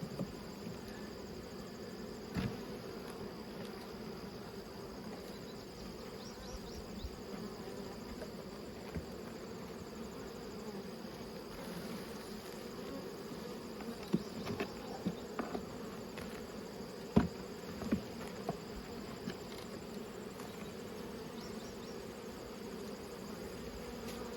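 Honeybees humming steadily in a beehive brood chamber in early winter, a faint continuous low drone throughout with a few soft scattered knocks and clicks.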